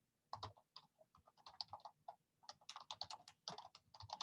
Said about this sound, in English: So I'm going to go ahead and type my name.